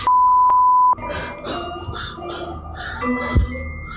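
A loud, steady electronic beep sounds for about a second, then cuts off, leaving quieter background sounds and a faint clink.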